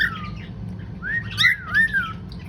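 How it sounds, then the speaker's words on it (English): Birds call close by indoors or nearby, sliding whistles and sharp squawks in a few bursts over a low background hum, with no talking. "The birds are not really being quiet."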